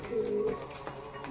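A pair of Madrasi pigeons coo softly up close, a few short throaty notes under faint background voices.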